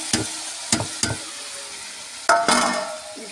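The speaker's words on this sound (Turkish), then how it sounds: "Fasulyemi döküyorum" Green beans tumble into a pan of hot frying oil with onion and tomato paste over a wood fire, giving several sharp clattering bursts, the last one loud and followed by a sustained crackling sizzle.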